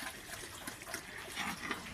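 Water pouring into a pig trough on a farm makes a steady, soft gushing splash throughout, faint and continuous with no voices.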